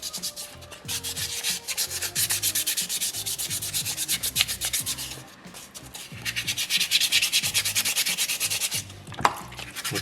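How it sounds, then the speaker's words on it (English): Wet sandpaper rubs steadily against a soapstone polar bear carving in rapid back-and-forth strokes, a close, continuous gritty scraping with brief pauses between passes. "You'll also find with the sandpaper getting wet, makes it a little bit more pliable, so it really forms to your stone"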